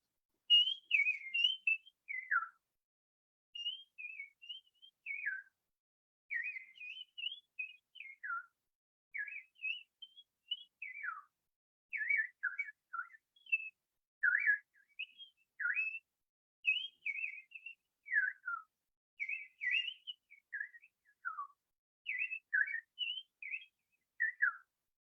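A person whistles a long run of brown-cheeked fulvetta calls, imitating the bird with many short, sweet, descending phrases in a steady rhythm. The whistling is close and sounds alone against silence.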